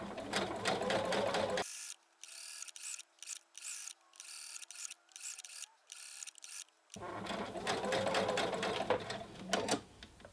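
A sewing machine stitches a continuous placket in loud, steady running bursts, pausing briefly in the middle with a few short ticking stitches before running again.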